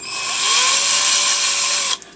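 A power tool cleaning up the bolt openings in a 3D printed filament loader part, a loud, close, high-pitched whirring drill sound held steady for about two seconds before cutting off abruptly.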